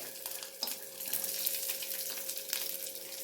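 Whole spices, cinnamon, cloves and pepper, frying in a pan over a low flame: a steady soft sizzle with a few light crackles and stirring scrapes, fairly quiet and close, with no voices.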